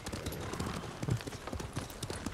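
Horse hooves clip-clop at a steady walking rhythm in the Ghost of Tsushima video game, close and moderately loud over a low background murmur.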